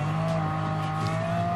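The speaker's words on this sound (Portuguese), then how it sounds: "primeiro lugar aqui com La Ferrari F50" Ferrari F50 racing in the video game Gran Turismo, a steady high-pitched engine whine held at speed, loud and continuous with a faint tire squeal.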